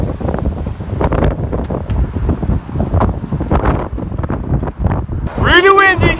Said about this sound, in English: Really windy, really cold.